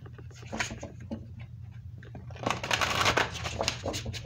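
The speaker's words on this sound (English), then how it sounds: "Let's give this a shuffle and see what's going on with your person." Tarot cards are shuffled repeatedly, a soft rapid riffling that grows busier and louder toward the end, with no talking.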